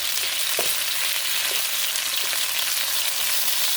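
Beef pieces browning in a hot pan for Chinese takeout-style pepper beef, a loud, steady sizzle close by with a few soft scrape or stir accents scattered through it, no talking.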